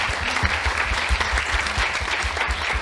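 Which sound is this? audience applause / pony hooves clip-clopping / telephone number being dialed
audience applause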